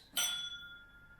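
Two whiskey glasses clinking in a toast, a single bright close clink that rings out and decays over about a second in a quiet room.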